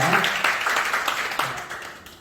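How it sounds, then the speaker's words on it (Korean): A church congregation at a Sunday service applauds to celebrate a member passing a bank employment exam; steady, moderately loud clapping from many hands that continues throughout, with some voices mixed in. "다시 한번 박수를 한번 축하하겠습니다"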